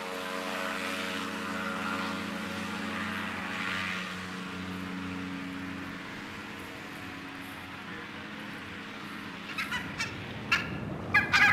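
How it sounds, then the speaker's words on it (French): Ultralight aircraft (ULM) flying among birds, its propeller engine droning steadily and fairly loud before easing off, with birds calling and squawking nearby toward the end. "Au bout de plusieurs heures de préparation, l'ULM peut enfin rejoindre les oiseaux en plein ciel."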